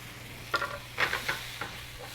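Vegetables dropped into a hot pan with nearly cooked chicken give a few soft bursts of sizzle and stirring scrapes, fairly quiet and close, with no talking.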